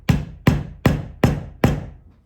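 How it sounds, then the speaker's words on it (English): A hammer taps a push pin into wood during skin-on-frame boat building, giving five sharp, evenly spaced knocks about 0.4 seconds apart. Each knock is close and clear, with a short ringing decay. "And then I'm going to tap this with my hammer."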